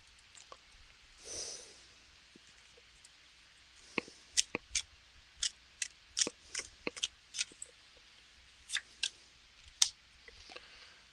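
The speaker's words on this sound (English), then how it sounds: "If I can get my card shuffled right." Tarot cards being shuffled by hand during a reading, a soft riffle early on followed by a run of crisp, sharp card taps and snaps at an irregular rhythm, close and fairly quiet with no talk.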